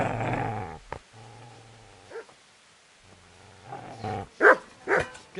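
A dog in the Kingdom Come Deliverance video game growls low and steadily, then lets out a few loud, sharp barks toward the end, close by with no talk.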